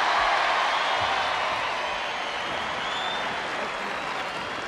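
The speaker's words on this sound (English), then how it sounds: "Applause!" A studio audience at a televised Jeux Sans Frontieres team game show, with Sunderland competing, breaks into sustained applause, a dense even roar of many hands that fades slightly over the seconds, with faint cheering mixed in.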